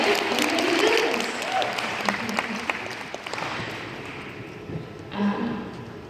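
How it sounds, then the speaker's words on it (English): Audience clapping at a business event, a dense burst of applause that thins out and tapers away, with some crowd murmur and brief voices in the room. "Clapping."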